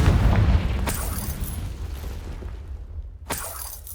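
A Confringo fire spell blasts in Hogwarts Legacy, a loud booming burst with a crackling tail that fades, followed by a second sharp impact near the end.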